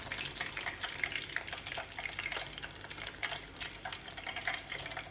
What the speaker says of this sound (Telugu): ఇలా బ్రౌన్ రైస్ వచ్చేంత వరకు మనం వేయించుకోవాలి.